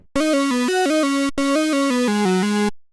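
Synth lead patch built in Serum, heard in its plain early form before any tweaks: a bright buzzy tone stepping through a short melodic phrase of sustained notes, loud and alone, with a brief gap midway.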